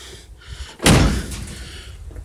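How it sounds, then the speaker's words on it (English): A 1967 Ford Mustang door shuts once with a solid, close thud and a short rattle after it, in a quiet setting. "And that door shuts way better than driver."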